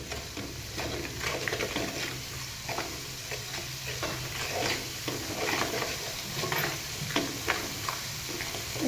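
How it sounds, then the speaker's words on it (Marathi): Puffed rice frying with lemon juice in a pan for a Kolhapuri lemon bhadang snack, a soft continuous sizzle with scattered crackles and occasional stirring scrapes, moderately close and with no talking. "तडतडाचा आवाज यायचा बंद होईपर्यंत आपल्याला हे करून घ्यायचं आहे"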